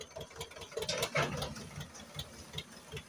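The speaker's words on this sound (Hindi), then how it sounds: "देखिए हम अब ट्रैक्टर को आगे ले रहे हैं" A tractor engine pulling forward on a farm, hitched to a trolley, gives a steady mid-level rumble with light rattles and ticks. The engine runs alone, close by, with no talk over it.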